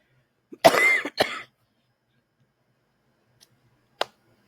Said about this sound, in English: I was trying to make it through without coughing,